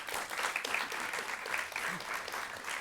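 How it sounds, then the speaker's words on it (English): Sustained applause from a studio audience welcoming a guest speaker, the director of a long-running BBC soap, at a broadcasting talk event; steady, dense clapping that carries evenly through the whole stretch. "I think that's worth an extra round of applause"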